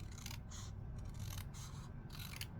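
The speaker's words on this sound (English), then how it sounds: "Now I'm gonna grab my snips and I'm gonna do my angles. And just gonna cut down." Hand snips cut through card at an angle, giving a run of crisp, close snipping bursts over a steady low background, with no talk.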